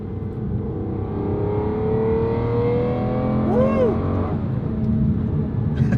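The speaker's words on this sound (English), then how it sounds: "Oh, this thing pulls great." An Aston Martin supercar accelerating hard, its engine note climbing steadily and loud throughout, with a brief squeal of tires or a passing whine near the middle and no talk over it.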